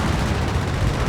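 An M16 anti-aircraft halftrack fires at aircraft in Company of Heroes 3, a loud, dense roar of continuous rapid gunfire that fills the whole moment, with no speech.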